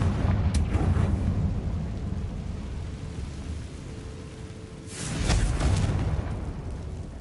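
In Hogwarts Legacy, a Confringo fire spell explodes with a loud, rumbling blast. A roaring burst comes early, then a second heavy boom swells about two-thirds of the way through over continuous low rumble.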